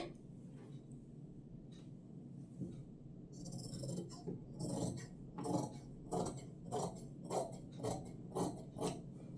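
Scissors cutting blouse fabric for a tailored blouse with a belt strip, giving a series of sharp, quiet snips that grow more regular toward the end, close by in a quiet room.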